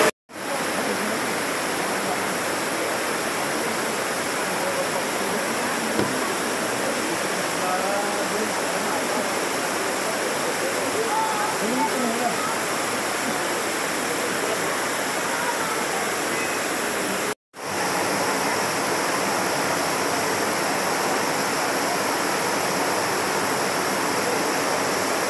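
Aliw Falls in Luisiana, Laguna pours with a loud, constant broadband roar of falling water, cut off briefly near the start and again partway through before resuming unchanged.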